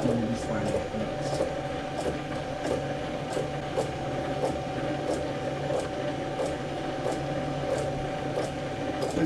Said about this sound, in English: Yeah, put a boring bar in. And bore this face to match this one so they're nice and parallel.